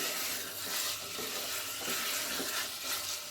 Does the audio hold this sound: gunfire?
no